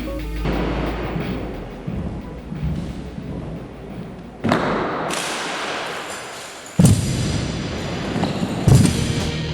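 Armed drill team handling heavy rifles of about 12 pounds, with sharp slaps and a few loud slamming thuds standing out over a steady background hum, no talk.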